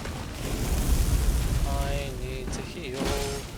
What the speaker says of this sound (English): Fire, I'm on fire, everything's on fire.